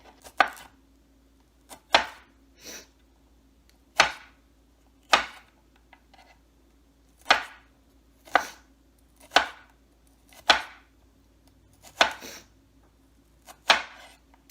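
Knife chopping onions on a cutting board: sharp, separate thuds at an unhurried, somewhat irregular pace, around a dozen strokes, close and clear against a quiet background with a faint steady hum and no talk.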